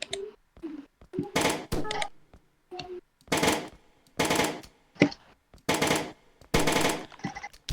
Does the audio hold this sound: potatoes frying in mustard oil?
no